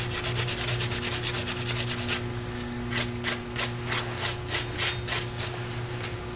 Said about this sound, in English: What I'm going to do is sand this little part off right down here.